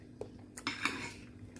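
Utensils clink and scrape against a bowl while a fruit salad of mangosteen, papaya, yellow kiwi and lemon juice is stirred, a few short close taps over quiet.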